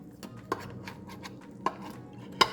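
A knife cutting baked macaroni and cheese into squares in a dish, giving a few sharp metallic clinks against the pan spaced about a second apart, with soft scraping between them.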